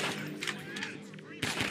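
Garry's Mod gunfire in a busy online match, scattered rapid shots and short bursts, fairly quiet, with a louder crack near the end, mixed with other game noise and a player's voice.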